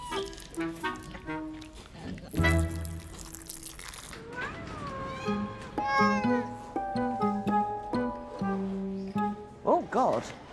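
A short meow-like call rises and falls amid people talking and some background clatter.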